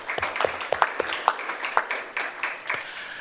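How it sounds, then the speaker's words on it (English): Applause from a small audience at a student fee hearing, honoring the budget office: scattered, uneven claps with some louder near hits, fairly close, over a murmuring room with a little talk mixed in. "Let's give them another round of applause."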